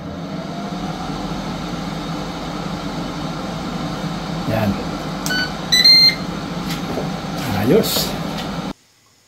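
A running air fryer gives off a steady whirring hum for several seconds in a home kitchen, broken by a few short beeps, while a person speaks briefly over it.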